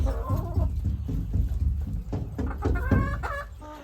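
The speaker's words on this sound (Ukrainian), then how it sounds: "тепер дорослі кури і качки живуть на дворі" Adult hens clucking in a farmyard alongside ducks, a busy overlapping chorus of nearby clucks and short calls continuing throughout with no talking.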